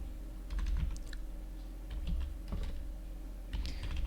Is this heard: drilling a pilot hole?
no